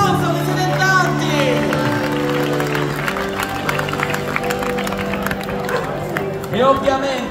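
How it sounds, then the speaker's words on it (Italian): A festival crowd applauds at an outdoor pizzica folk-dance night in a southern Italian town square, a dense sustained clatter of clapping and some cheering, with a voice speaking through it. "Più forte un applauso, che siete in tanti."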